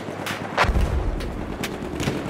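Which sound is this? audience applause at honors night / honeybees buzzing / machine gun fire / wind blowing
machine gun fire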